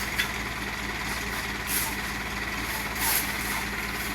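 A sand delivery truck idles and creeps in reverse with a low, steady engine drone, joined by a couple of short hissing bursts, while someone talks over it nearby.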